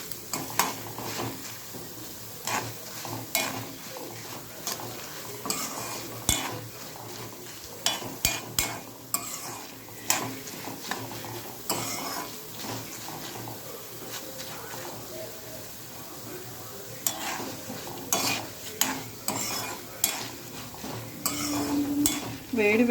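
Toor dal (kandi) frying slowly in a pan for chutney, with steady soft sizzling under repeated scraping and stirring clatter from a spoon against the pan. The sound is close and moderately loud, and there is no talking.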